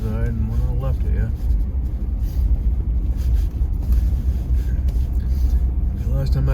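Car driving slowly along a snowy dirt road on a muzzleloader hunting outing, a steady low rumble of engine and tires with wind buffeting the microphone, and someone talking over it.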